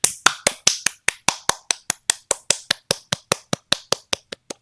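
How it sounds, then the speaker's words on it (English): A single person claps steadily, about twenty sharp claps in an even rhythm, close and loud, with no other sound. "you heard me making applause"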